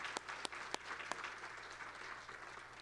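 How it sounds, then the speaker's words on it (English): An audience at a corporate speaker event applauding together, a steady, fairly distant wash of clapping with a few sharper claps standing out at the start before it gradually thins. "Let's give her a round of applause for that."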